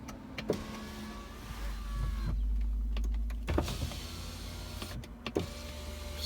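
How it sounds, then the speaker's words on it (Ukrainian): Power windows on a Volkswagen Passat B7 2.0 DSG run up and down in several cycles, each a steady electric motor whine ending in a soft thunk at the stop, close by inside the car. "Провірю стеклопідйомники. Робить. Робить. Робить."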